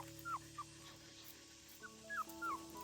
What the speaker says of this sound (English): The puppy's little paws were kicking wildly, and its little mouth was constantly whimpering